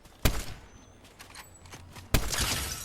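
Gunfire in the Fortnite Chapter 5 battle royale video game: two sharp, loud shots about two seconds apart, each followed by a brief ringing tail, with faint footsteps and ambient game sounds between them.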